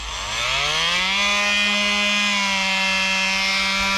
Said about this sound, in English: I'm going to just try the multi-tool to see if it's even got any cutting on it.